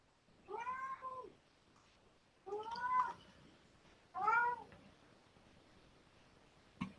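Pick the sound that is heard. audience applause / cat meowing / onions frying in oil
cat meowing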